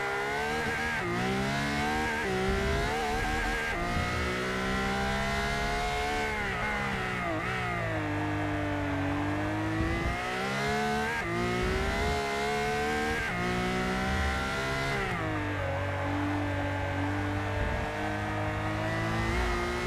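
A modern GT1 race car in Forza Motorsport 6 revs hard and continuously, its engine pitch climbing and dropping through repeated gear shifts, loud and up close with no talk over it.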